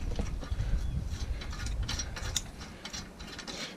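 A hand ratchet clicks rapidly and steadily as it backs a bolt off a Yamaha Grizzly 700 ATV during starter relay work, close up with a continuous pawl chatter and a few sharper metallic ticks.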